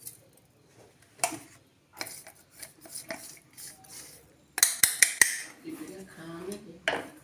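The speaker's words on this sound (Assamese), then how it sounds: "এইখিনি মছলাখিনি খুন্দি ল'লোঁ" Coriander and cumin seeds pounded in a pot for mixed pickle, giving a cluster of sharp, close knocks near the end after quieter scattered taps and rubbing.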